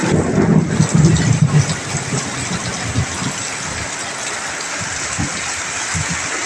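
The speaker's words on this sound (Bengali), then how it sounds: "কক্সবাজারে বৃষ্টি হচ্ছে, বজ্রপাত, বৃষ্টি, বিজলি চমকাচ্ছে।" Heavy rain pours down in Cox's Bazar, a steady broad hiss, with a deep low rumble swelling in the first two seconds before easing into constant rainfall.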